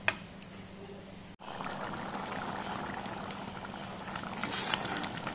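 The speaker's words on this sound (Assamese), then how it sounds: "এতিয়া ইয়াত উতলিবলৈ দিব লাগিব এইখিনি" Chana dal with paneer bubbles in a cooking pot, giving a steady close simmering hiss. A sharp click comes early on, and then the boiling noise continues evenly.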